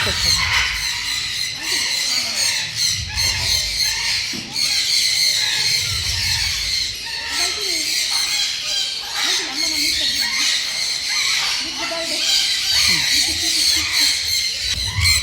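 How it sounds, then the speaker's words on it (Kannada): Two different kinds of parrots squawking and squealing on an outing, shrill repeated calls close by over a busy background, with people talking throughout. "ಇಲ್ಲಿ 2 ಬೇರೆ ರೀತಿಯ ಗಿಳಿಗಳೆಲ್ಲ ಇತ್ತು"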